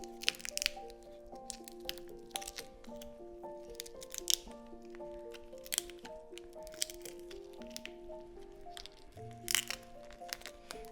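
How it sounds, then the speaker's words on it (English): Raw prawn shell being peeled down to the tail gives quiet, scattered crackles and crisp snaps over soft background music. "Next, you're going to peel all the way down to the tail segment."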